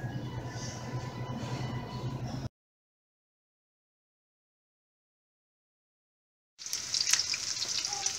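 Empanadas sizzling and crackling steadily in frying oil, close up, with a few seconds of silence in the middle before the frying resumes.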